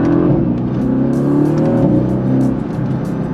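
A 2018 Mercedes-Benz AMG GT with a V8 engine revving at about half throttle, a loud, steady, deep growl heard close up that holds throughout without a break.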